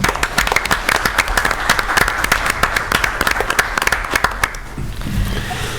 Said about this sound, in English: Let's give Tate a round of applause for 2 years.